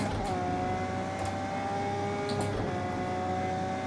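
A race car engine in Project Cars 2 drones steadily and loudly at a fairly constant pitch throughout, a continuous buzzing hum with no talk over it.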